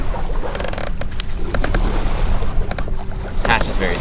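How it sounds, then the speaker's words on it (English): A squeaky hatch on a sailboat creaks in short, repeated squeals close to the microphone, over wind noise and the hollow knocks of the moving hatch. "This hatch is very squeaky."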